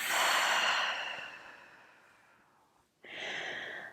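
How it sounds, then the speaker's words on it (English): Deep breath exhaled slowly through an open mouth during a relaxation exercise, a long breathy sigh fading out, then after a short silence a fresh breath begins, close and soft. "Long breath, inhale. Open mouth. One more inhale. Open mouth."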